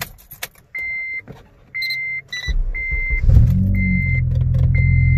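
A 2006 Honda Civic Si with a K20Z3 engine and a newly fitted 3.5-inch hybrid cold air intake: warning chimes beep repeatedly before the starter cranks and the engine catches into a steady, close idle.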